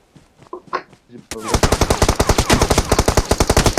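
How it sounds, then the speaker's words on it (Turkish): Automatic gunfire from the PUBG Mobile video game rattles out in a fast, loud, steady burst of shots. Faint murmurs come just before it. "Ya sağdan sıkıyorlar, soldan sıkıyorlar."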